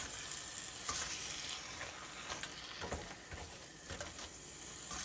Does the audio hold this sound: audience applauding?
no